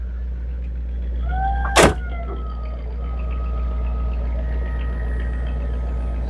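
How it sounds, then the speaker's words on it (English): A 1963 Ford Thunderbird convertible's electric motor spinning the trunk lid corkscrews, a steady loud whirring drone with faint whining overtones and one sharp clunk near two seconds, heard close up. "So we got these corkscrews spinning here that screw down into here, run by this motor here."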